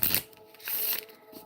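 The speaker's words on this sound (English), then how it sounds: "Let me just shuffle these cards now." A deck of tarot cards is shuffled by hand in two quick riffling bursts, close and fairly quiet, with no talking.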